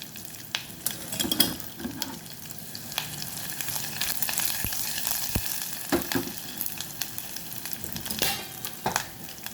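Red chillies and curry leaves fry in hot oil with a continuous crackling sizzle, while irregular stirring scrapes and clicks come through close up at moderate loudness.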